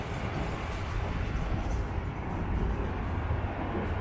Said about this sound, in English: Oh, here's a Union Pearson Express train.